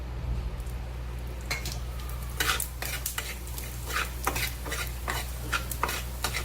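Whole coriander seeds roast in a little oil in a pan, heard as a soft sizzle under a run of quick, close scraping strokes from a spoon, with no talking.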